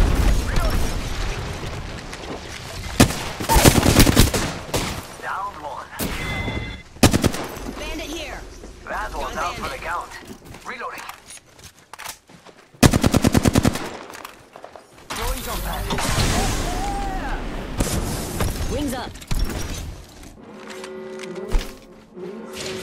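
Apex Legends firefight with loud, close automatic gunfire in repeated bursts and separate single shots, spread across the stretch between quieter gaps, mixed with game sound effects and a voice speaking in places.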